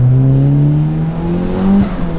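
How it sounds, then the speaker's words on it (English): A turbocharged Mitsubishi Lancer engine pulls hard under boost, its pitch climbing steadily, loud and close, with a brief sharp flutter near the end. "It's building boost really nicely."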